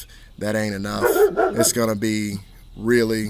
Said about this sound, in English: Excuse the barking. It's my lovely dog